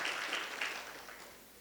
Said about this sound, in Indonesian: kita berikan apresiasi itu buat Latifah, kita berikan tepuk tangan.